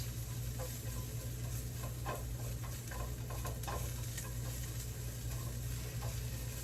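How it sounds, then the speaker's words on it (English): Fresh garlic cloves are stirred in pan drippings and oil, a steady soft sizzle with light scraping and patter from the stirring, fairly quiet and continuous. "We're going to put our 2 cloves of garlic right in there. Just give them a little stir until they become aromatic."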